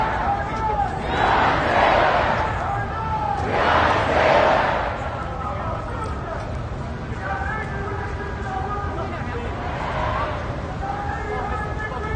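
A protest crowd in New York City over the Breonna Taylor charging decision roars in swelling waves of shouting and chanting, two big surges early and another later, over a steady background of crowd babble.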